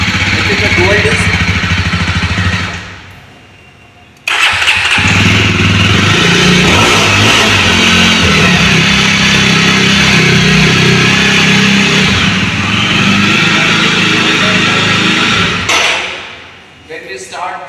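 A 2023 Jawa Perak bobber motorcycle engine runs loud and close, cuts out briefly, then restarts and thumps steadily with a rough exhaust note before dropping off near the end.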